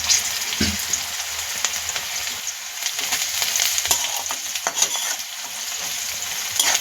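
Salted chopped onion is sautéed in oil in a pan for a coriander-leaf bhaji, giving a close, steady frying sizzle with intermittent stirring scrapes and no voices.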